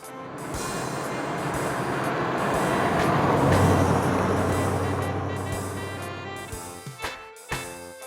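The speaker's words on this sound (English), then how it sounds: "Red, Lightning McQueen." A red Lightning McQueen race car gives off a continuous, loud engine roar that builds toward the middle with a deep, steady drone, then tapers off with a few sharp bursts at the end.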